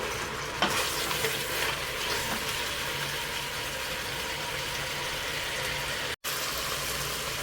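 Onions frying steadily in a pan while being stirred, a constant loud sizzle with scraping movement throughout and one brief break near the end, no talk.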